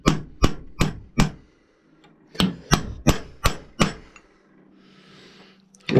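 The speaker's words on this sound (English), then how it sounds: "So I'm just going to take a cold chisel." Hammer blows driving a cold chisel into a muzzleloader barrel: two sharp bursts of four and six evenly spaced metallic strikes, close and loud, with a short pause between and quiet after.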